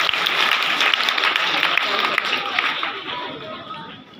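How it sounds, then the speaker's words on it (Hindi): Group of children clapping in a room, a busy patter of many small hands with chatter and movement mixed in, fading toward the end. "ताली बजाओ"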